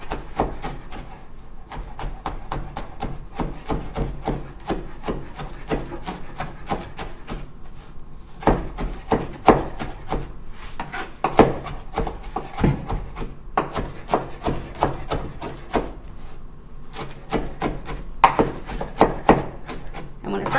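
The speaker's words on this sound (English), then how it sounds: "There's just a lot of parsley, so it takes a long time to chop." A knife chopping a large pile of fresh parsley on a board, fast rhythmic close taps in long runs with brief pauses between bursts.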